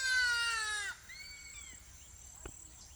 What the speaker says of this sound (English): crested hawk eagle sounds